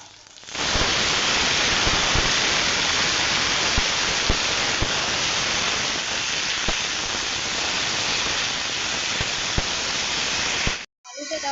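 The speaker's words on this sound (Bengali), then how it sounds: "এখন এই যে পেঁয়াজ লঙ্কাটা ভেজে নিচ্ছি" Chopped onion and chili frying in hot oil in a home kitchen, part of a Bengali fish curry with dried fish, giving a steady, loud, hissing sizzle that runs unbroken for about ten seconds, with a few faint clinks, before stopping abruptly.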